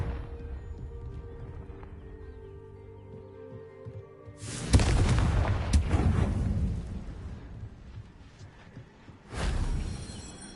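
Confringo fire spell blasts in a Hogwarts wizarding video game: two loud, broad explosive bursts, the first roaring and trailing off over several seconds, the second shorter near the end, over a quieter musical background.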